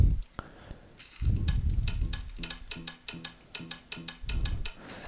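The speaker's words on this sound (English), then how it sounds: "it's the sound of a note block with guitar sound" Minecraft-style note block set to a guitar sound, produced by a scripting engine: a run of short plucked tones repeating in a steady rhythm, fairly loud and alone, with a few low thumps between them.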